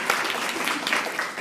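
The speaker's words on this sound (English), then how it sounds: "We'll give them a round of applause." An audience at a women-in-philanthropy gathering claps in a soft, scattered round of applause, fairly faint and brief, with individual claps standing out against the wash.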